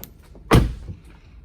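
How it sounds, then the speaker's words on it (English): A Tesla car door is opened from the inside, giving a single solid thunk of the latch and door release, close and fairly loud, with faint interior ambience before and after. "Next, opening doors from the inside."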